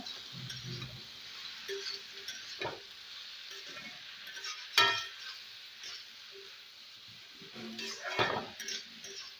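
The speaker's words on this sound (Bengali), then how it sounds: "দিয়ে ভালো করে নাড়িয়ে দেব" A spoon stirs potato and ridge gourd curry with dried shrimp in a frying pan, soft scraping and clinks over a quiet sizzle, in intermittent strokes with no speech.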